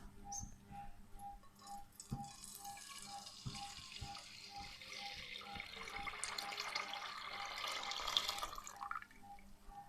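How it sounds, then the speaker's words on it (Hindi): Milk poured into a pan while making sheer khorma, a faint, steady liquid rush with scattered small clinks and drips that swells gradually and then cuts off near the end, with no speech. "अब हम इसमें डाल देंगे दूध।"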